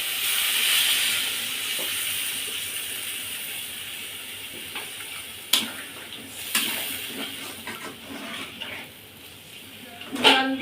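Water poured into a hot pan of sweet, sour and spicy meat gives a steady loud hiss and sizzle that fades gradually, with a few sharp clinks and scrapes of utensils near the end.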